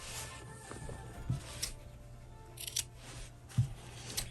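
Scissors snipping the corners of sewn fabric, a few sharp, close clicks and cuts spaced apart over a quiet background.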